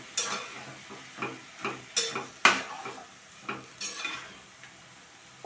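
A Bhogi vegetable mix with peas and chickpeas is stirred in a pan: about a dozen distinct spoon scrapes and clinks in an uneven rhythm over a faint background sizzle, close and clear with no voices.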